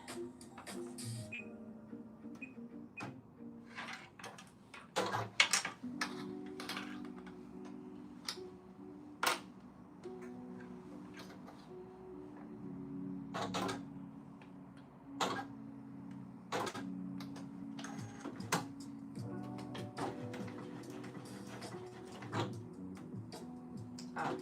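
A home sewing machine running a stretch stitch in short bursts, with sharp ticks and clacks, brief motor whirs and pauses in between, close and fairly quiet.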